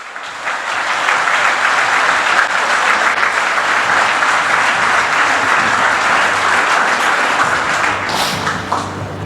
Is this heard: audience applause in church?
yes